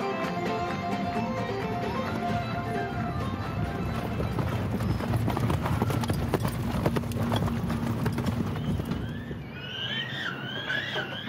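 Horses' hooves clip-clop steadily at the Puy du Fou stables in France, a continuous close rhythm of many hoofbeats on hard ground, with a bird chirping briefly near the end.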